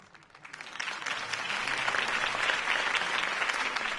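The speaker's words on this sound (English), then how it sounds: "could have heard that applause" Applause from a crowd swells quickly from a few claps into sustained, dense clapping that continues steadily to the end.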